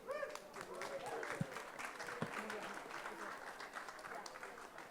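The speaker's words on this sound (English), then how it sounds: "Give them a round of applause." Audience applause at a marketing conference session on building a mobile game into a global franchise, with steady clapping filling the room for the full stretch and a few louder claps standing out.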